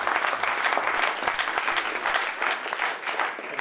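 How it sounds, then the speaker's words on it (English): Student audience applauding at a university student government debate, a loud, steady burst of dense clapping lasting a few seconds with no talking over it. "can we all give them a round of applause as well?"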